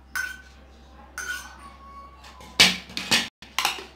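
A spoon clinking and tapping against a bowl in a few short, sharp, close bursts separated by quieter moments.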